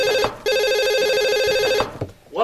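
An electronic telephone ringtone warbles loudly in repeated trilling bursts, pausing briefly between rings, with no talking over it.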